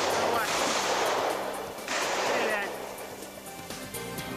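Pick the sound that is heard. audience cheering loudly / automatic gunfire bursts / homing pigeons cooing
automatic gunfire bursts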